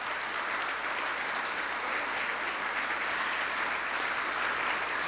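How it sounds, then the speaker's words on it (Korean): An audience applauds steadily after a string ensemble performance at an award ceremony, a dense even wash of clapping that holds at a constant level for a few seconds, with no voices on top. "다시 한번 큰 박수로"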